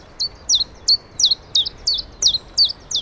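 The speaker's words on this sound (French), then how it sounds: "Ça, c'est un pouillot en même temps." A chiffchaff sings in a park during morning birdsong, giving a close, clear series of about ten evenly spaced high chirps, each note sharp and repeated in a steady rhythm over a quiet background.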